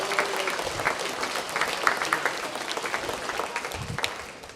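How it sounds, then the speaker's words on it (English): A hall-of-fame ceremony crowd gives an honoree a round of applause, a dense, steady burst of clapping that fills the room for several seconds and slowly thins toward the end. "Let's give Great Western a round of applause."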